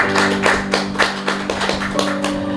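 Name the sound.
audience applause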